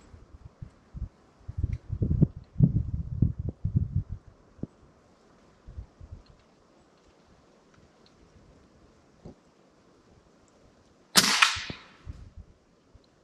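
A single sharp shot from an Umarex Origin .22 caliber air rifle fired at a paper target outdoors, a crisp crack standing out near the end after light rustling and handling noise, with no voices.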